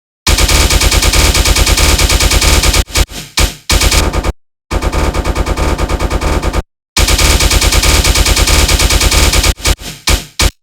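A tearout dubstep bass synth with a machine-gun character, in the style of Marauda. It fires very loud, rapid, stuttering bursts in repeated phrases separated by short silent gaps.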